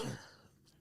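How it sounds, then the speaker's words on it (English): A single short, forceful sneeze-like burst from a person bursts out at the start, then fades quickly into quiet room tone. "it's very unprofessional of me to be sneezing like this"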